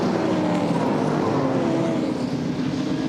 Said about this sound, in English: you hear them feathering the throttle through that little right-left